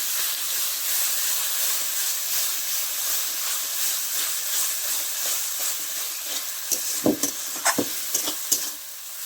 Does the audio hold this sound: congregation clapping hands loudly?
no